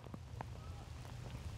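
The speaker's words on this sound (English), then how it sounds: "This rain really coming down now." Heavy rain pours down on a golf course during a tournament round, a faint, steady hiss with a few soft taps over a low rumble, heard alone without speech.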